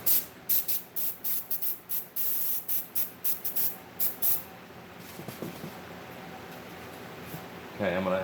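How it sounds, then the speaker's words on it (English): Paasche H airbrush spraying paint in repeated short bursts, each a loud airy hiss, followed by a longer steady spray and a final burst; near and clear, with no talk over it. "This airbrush is a Pache H."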